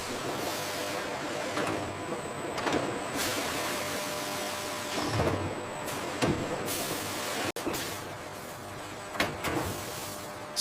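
A vacuum sealing machine on a high-speed octopus processing line runs with a loud, steady mechanical roar, broken by periodic hissing surges and one sharp clunk.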